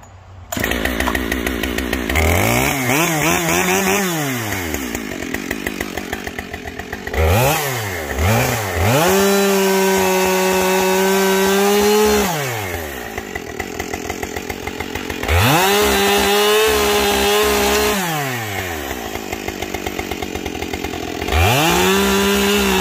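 A chainsaw fitted with a HiPa saw chain cuts through a pile of logs, its engine revving up and bogging down repeatedly under load and dropping to idle between cuts, loud and close throughout.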